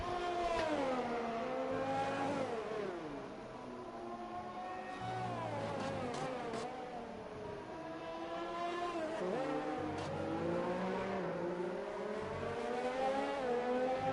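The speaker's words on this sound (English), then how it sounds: "We got Scotty on another out hot lap going" An F1 race car in a video game, on a hot lap of the Brazilian Grand Prix in an esports league, screams through its gears. The high engine note climbs and drops repeatedly, loud and continuous, with no voices.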